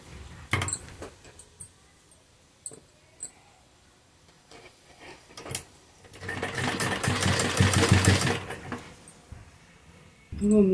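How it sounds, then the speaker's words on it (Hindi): A sewing machine runs a seam attaching lace to the other side of a round neckline, a steady whirring burst of a few seconds after scattered clicks and handling noises, fairly close. "अब हम लेस की दूसरी तरफ एक और सिलाई लगाएंगे"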